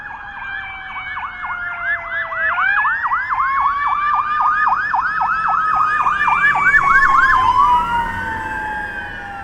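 A fire chief's vehicle siren approaches on a city street, a loud, rapid yelping wail that climbs in pitch and intensity, then shifts into a slower rising-and-falling sweep as it draws near, with no talking.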